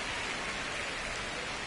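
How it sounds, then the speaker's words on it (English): Steady, dense rain falls on a baseball game between the New York Yankees and Miami Marlins, a continuous even hiss with no voices over it. "This rain is not letting up."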